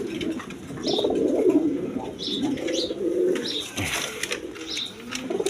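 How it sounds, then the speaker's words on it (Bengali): A pair of red Gorra pigeons, a male in front and a female behind sitting on two eggs, coo in low, rolling phrases that repeat close by, with faint higher chirps from other birds in the background. "এখানে এক পেয়ার রেড কালার গররা কবুতর আছে দেখেন সামনে একটা নর পিছনে একটা মাদি"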